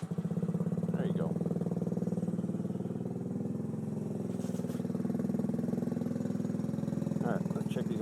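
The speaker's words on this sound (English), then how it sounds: "I'm going to fire up the bike now." A custom Kawasaki Z125 motorcycle idles steadily close by, its even low engine pulse running throughout with a couple of faint background noises.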